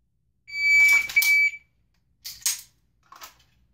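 Two sharp electronic beeps from a shot timer a moment apart, followed by a third fainter beep, loud and close with quiet gaps between.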